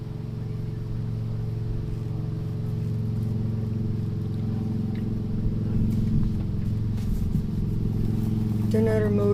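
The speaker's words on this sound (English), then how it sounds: "another motorcycle." A motorcycle on a sunny day out in Quartzsite rumbles steadily close by, its low engine drone holding for several seconds and swelling slightly near the end, with people talking over it.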